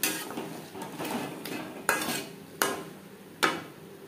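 A metal spoon scrapes and clinks against a pan while spice paste is stirred into cauliflower stalks with papaya, steady scraping punctuated by three sharp knocks, a faint sizzle underneath.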